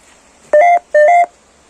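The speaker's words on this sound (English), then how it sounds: "It just beeped twice for no." An EMF meter sounds two loud, identical electronic beeps in quick succession, each about a quarter second long, in a quiet room of a castle during a paranormal investigation.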